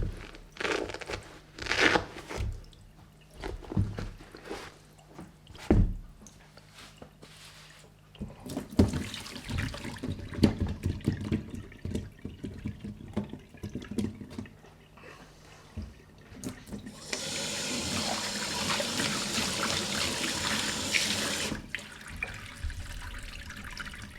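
Tap water runs into a sink while boots are cleaned, with scrubbing and knocking noises at first, then a steady loud gush of running water near the end.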